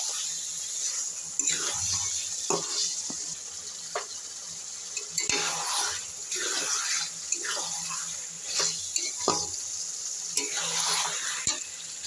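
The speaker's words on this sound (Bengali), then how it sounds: "মশলার সঙ্গে মাংসটা আমার ভালো করে কষানো হয়ে গেছে।" Chicken is stirred and sautéed in spice paste, with a wet sizzle rising and falling in repeated scraping bursts as the pieces are turned.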